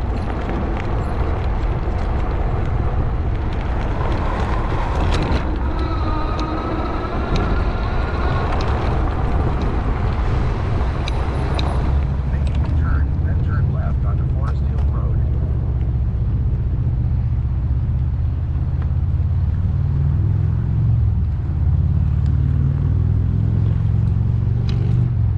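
Riding an e-bike with power assist along a bike trail on a long-range ride, with steady loud wind buffeting the microphone and a low rumbling roar throughout, no talking.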